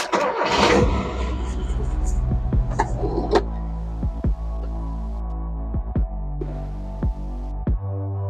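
A Mazda B2000 pickup engine cranks briefly, catches and fires up, then settles into a close, steady idle with rhythmic low throbbing and a few sharp ticks.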